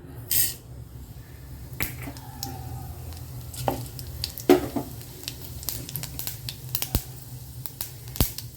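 Mustard seeds and urad dal sizzle in hot oil for a horse gram chutney tempering, with sharp, scattered crackling pops over a faint, quiet fry.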